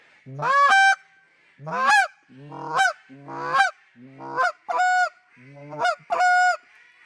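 A goose call imitates a Canada goose with eight short, sharp clucking honks in an uneven rhythm, loud and close, with no other sounds.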